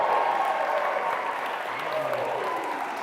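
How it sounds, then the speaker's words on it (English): A live studio audience at Crystal Bridges claps in sustained, dense applause that fills the room from start to finish, with a few voices mixed in. "Give yourselves a round of applause."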